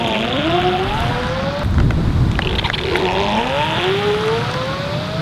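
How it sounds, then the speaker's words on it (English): A Juiced dual electric longboard with in-hub motors accelerates under a 200-pound rider, its motor whine rising in pitch over heavy rushing wind noise and road rumble. "So 200 pounds on a juiced dual, here's how it accelerates"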